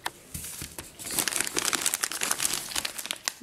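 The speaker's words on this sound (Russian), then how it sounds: "Еще одни мусорные пакеты." Packs of plastic garbage bags crinkle and rustle as they are handled up close, with a dense run of crackling bursts that grows busier after the first second.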